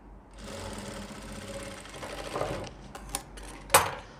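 A sewing machine runs steadily, stitching a folded pant hem, with a continuous whirring rattle that rises slightly toward the end before a few sharp clicks and a louder clack as it stops.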